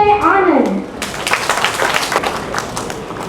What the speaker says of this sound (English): Let's give a huge round of applause for our man of the series